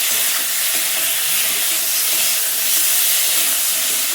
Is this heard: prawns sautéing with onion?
yes